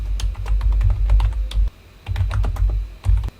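Java code being typed on a computer keyboard: bursts of quick, close key clacks with heavier thumps mixed in, broken by short pauses between runs.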